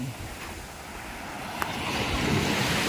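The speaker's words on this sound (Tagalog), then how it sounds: "Ang ganda ng alon." Ocean surf at night along the baywalk in Puerto Galera, a broad continuous wash of breaking waves that swells slightly louder toward the end, mixed with wind noise on the microphone and no talking.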